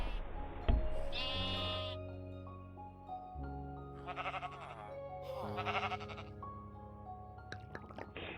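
Repeated bleats from gray sheep in Minecraft, a few wobbly calls spread across the stretch, loud and near against a steady background of game ambience.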